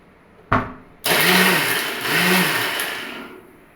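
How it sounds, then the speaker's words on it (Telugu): Mixer grinder blending watermelon pieces with sugar for homemade ice cream: a brief motor pulse, then a loud continuous whirring grind whose pitch swells and dips twice. "ఇలా షుగర్ వేసుకున్న తర్వాత మనం దీన్ని గ్రైండ్ చేసుకుందాం"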